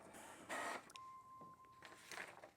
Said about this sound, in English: It's going to print something. Probably a welcome page.